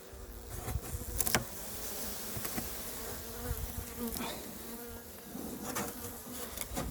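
Honey bees buzz loudly and steadily in an open beehive during a late-season inspection, with close wingbeats and occasional knocks of the frames.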